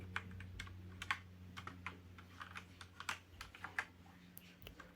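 Keys are pressed on a Cosmic Byte mechanical keyboard, giving a quiet run of irregular, crisp clicks and clacks close by, with a faint steady hum underneath.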